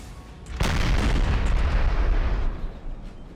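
A 4-pounder artillery piece fires in Napoleon Total War, one loud close boom followed by a long rumbling roar that fades slowly.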